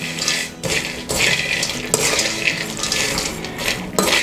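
Trail mix with dried cranberries, raisins and warm peanuts being stirred together in a bowl, giving a steady close run of clattering, rattling and scraping with a few brief pauses.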